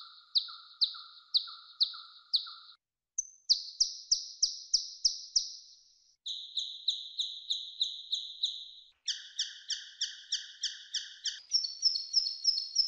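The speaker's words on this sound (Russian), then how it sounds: "Несколько простых чириканий птиц." Synthesized simple bird chirps made for forest sound design come in several rapid, evenly spaced bursts of short, bright tweets. Each set has a slightly different pitch and pattern, and they play cleanly against silence.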